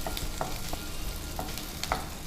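Ingredients for methi paneer bath fry in a hot pan with a constant, busy sizzle, broken by occasional sharp clinks and scrapes of a spatula stirring against the metal.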